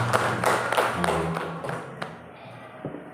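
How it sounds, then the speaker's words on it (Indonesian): Small group applauding at a school gathering, a handful of distinct, fairly close claps with some thumps in the first half that thin out and fade to a few scattered taps. "Tepuk tangan dulu."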